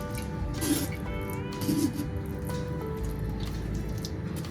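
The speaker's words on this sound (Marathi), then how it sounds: "डाळीमधलं पाणी गाळून झाल्यानंतर आपण अशी डाळीला मॅश करून घेणार आहोत" Cooked, drained lentils (dal) are mashed for puran poli, with a couple of soft, wet squishing presses against a quiet background that carries a faint musical tone.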